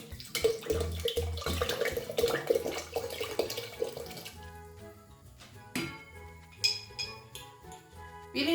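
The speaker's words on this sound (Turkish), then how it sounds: "Sonra üzerine 2 litre kadar su ekliyorum." Roughly two liters of water poured onto full-fat milk inside a butter churn machine: a steady splashing, gurgling pour for several seconds, then quieter trickling and a few light clinks near the end, with no talk.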